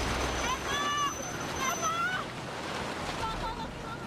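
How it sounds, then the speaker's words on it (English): A tsunami flood wave laden with debris rushes through Banda Aceh as a dense, roaring wash of churning water and wind noise, with distant voices crying out over it. "Crammed with billions of tons of debris, the wave is an unstoppable battering ram."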